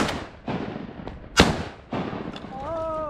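Several sharp, loud shotgun blasts ring out during a duck hunt, about five shots spread over a few seconds with a brief decay after each, followed by a short tonal call at the end.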